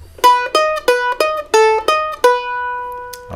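A short phrase from a fiddle tune on a fretted string instrument: about eight crisp plucked notes in quick succession, close and alone, the last one left ringing.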